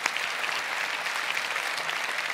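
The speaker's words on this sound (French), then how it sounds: "Merci beaucoup, Chantal Chevron, on peut vous applaudir" Audience applause at a round-table discussion on care and support, steady dense clapping filling the whole stretch at moderate loudness with no voices over it.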